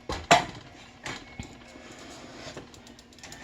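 A worn old cast-iron skillet is set down on a stovetop with a sharp clank, followed by a few softer metallic knocks and scrapes in a quiet kitchen.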